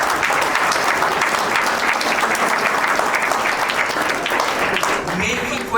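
A seminar audience breaks into sustained, dense applause, loud and close, with many hands clapping steadily throughout.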